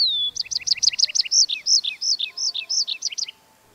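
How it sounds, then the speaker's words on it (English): Small birds chirping in the rural heart of Portugal: a quick run of bright, repeated tweets followed by slower slurred whistled notes, close and clear over a quiet background. "Birds enough."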